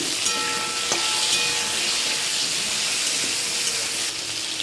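Potatoes frying in oil in a wok with cumin seeds, salt and turmeric, a loud, dense, continuous sizzle close up with faint clinks, no talking.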